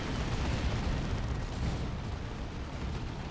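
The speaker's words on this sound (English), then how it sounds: "Plasma cannon getting shots off as well" A plasma cannon fires amid a 3v3 battle in Dawn of War 2: Retribution, its shots blending into a continuous, fairly quiet wash of booming battle noise.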